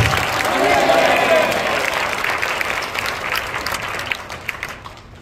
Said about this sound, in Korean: 여러분 박수를 한번 해주시기 바랍니다.